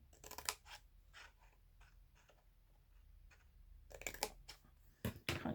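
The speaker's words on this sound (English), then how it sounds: "Can't keep my scissors straight." Scissors snip through stiff card for a coffee pouch box in quick, close crisp cuts, with a pause before a final flurry of snips.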